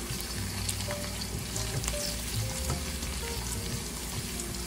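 Ginger sautéing in hot oil in a pan, the first step of a spicy squid adobo: a steady close sizzle and crackle with light stirring scrapes, continuous and without talk.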